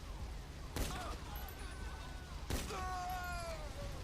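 Gunshots in a NoPixel GTA roleplay shootout: two sharp, loud cracks about two seconds apart, each trailed by ringing tones over a constant game background.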